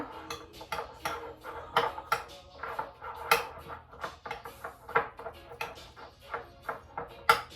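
A spoon stirs crab filling of crab meat, orange and salt in a bowl, producing a quick irregular series of sharp clinks and scrapes, fairly close and alone.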